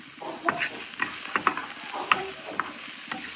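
Capsicum sautéing in a pan with salt, a soft sizzle broken by repeated sharp spatula scrapes and taps, close and fairly regular, with no voices.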